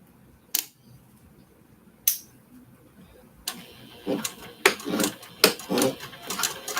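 A vintage Singer sewing machine stitches the outer edges of a small fabric journal cover: two isolated mechanical clicks, then a quick run of uneven clattering bursts, close and moderately loud.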